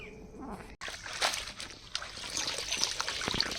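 Water trickling and splashing as water lily stems are washed by hand, with irregular close dribbles and small splashes after a brief pause.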